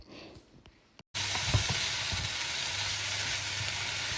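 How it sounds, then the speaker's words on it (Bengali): Meatballs and fish fingers fry in a pan with a steady, dense sizzle that starts abruptly after a short quieter moment and holds evenly close by. "অন্য একটা ফ্রাই প্যানে কিন্তু আরিয়ানার জন্য শর্ট বোলার মানে মিট বল ফ্রাই করা হচ্ছে আর ফিশ ফিঙ্গার"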